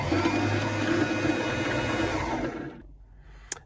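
Singer M2015 sewing machine winding thread, a loud, even motor whir close by that runs for a few seconds and then winds down and stops, followed by a single sharp click.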